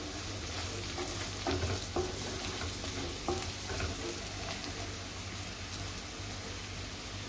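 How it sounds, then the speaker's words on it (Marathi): Turmeric being stirred into hot oil in a pan for cabbage chana dal sabji: a close, steady crackling sizzle with repeated spoon scrapes and clicks, no talking. "आता हळद घालूया आपण तेलावरती। मिक्स करून घेते।"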